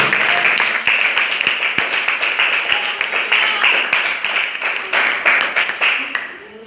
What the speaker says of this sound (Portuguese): Vamos bater palmas para ele, vamos.